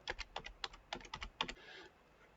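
Typing on a computer keyboard while searching for the Scratch desktop editor: a quick, close run of key clicks in small bursts, then a brief pause and a final short rattle, alone and fairly quiet.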